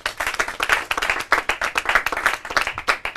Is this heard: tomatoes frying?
no